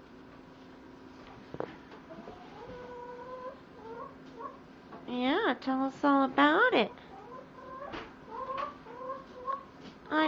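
A hen clucks and gives drawn-out vocal calls at close range in a home with a boxed brooding hen, the calls bunching into a louder burst midway, while a person talks over the sounds.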